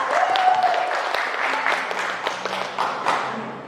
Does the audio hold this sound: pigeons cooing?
no